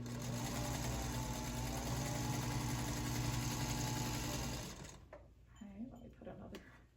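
Sewing machine stitching through fabric for a 30-inch Chapel Steps quilt block, a steady close mechanical whir running continuously for about five seconds, then stopping; afterwards faint handling noises and a soft voice remain.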